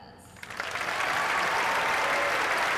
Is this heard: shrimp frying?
no